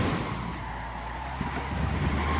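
Car driven in the video game Ghost Recon Wildlands: a continuous engine drone with tire skidding and rumbling over rough ground, steady and close for a couple of seconds.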